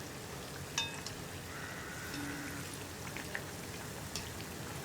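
Tea-shop style bonda frying in hot oil, a soft continuous crackle and fizz with a few faint clicks, low and steady with no talk.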